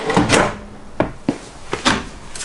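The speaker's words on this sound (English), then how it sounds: "And then a nice utensils drawer" An RV kitchen utensil drawer in a Cedar Creek Hathaway 38FBD fifth wheel slides open with a few close, sharp knocks and clicks spread over a couple of seconds, with brief rustling between them.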